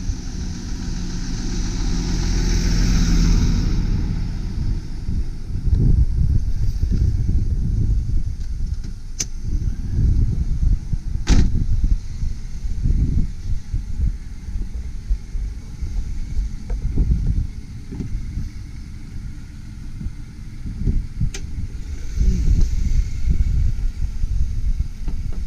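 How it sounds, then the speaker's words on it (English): The 2.5-litre engine of a 2003 Subaru Impreza 2.5RS AWD sedan with a five-speed manual runs steadily for the whole stretch, a loud, constant rumble with some wind buffeting on the microphone and a few faint clicks. No one speaks. "Motor's running smoothly."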